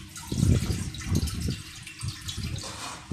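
Water from a bowl is poured into a wok while making a traditional Thai layer kueh, a close gurgling, splashing pour with a few uneven surges over about three seconds, without talking.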